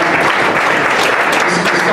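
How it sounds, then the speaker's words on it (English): Steady, loud crowd applause for a boxer at a Golden Gloves tournament, a continuous dense wash of clapping with voices mixed in. "Let's give this man a round of applause."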